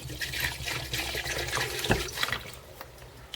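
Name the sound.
diesel fuel poured from a gallon jug into a fuel filter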